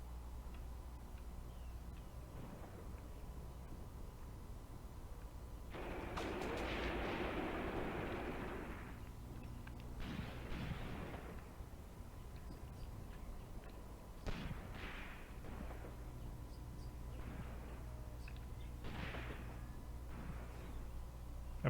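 Battle gunfire in the video game Graviteam Tactics, Kharkov 1941: a muffled rumbling burst of fire followed by scattered distant cracks and thuds, faint over a low steady hum.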